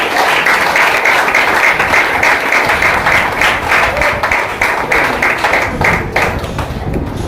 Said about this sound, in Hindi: सब लोग ताली बजाओ जैसे वो लोग आते हैं।